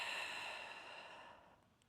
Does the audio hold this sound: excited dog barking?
no